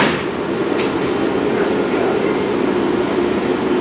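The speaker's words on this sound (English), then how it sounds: "Check this nice London subway train." A London Underground Victoria Line train rumbles loudly along the track with a steady roar and faint rattling clicks, close and continuous, no voices.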